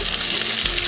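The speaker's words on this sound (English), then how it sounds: "I love the sizzling." Oil sizzling and crackling in a hot pan at medium heat as onions stir-fry, a brief close burst of steady frying noise.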